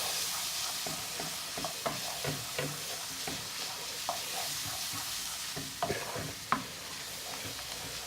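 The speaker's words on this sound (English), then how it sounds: "What I'm going to do now is add the garlic and ginger paste. Give that a good stir." Garlic and ginger paste being stirred into soft, mushy frying onions for a Goan vindaloo, with a steady sizzle and repeated scraping strokes of a spoon against the pan, close and moderately loud, with no talking.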